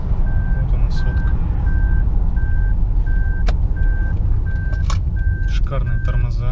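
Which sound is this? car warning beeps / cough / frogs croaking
car warning beeps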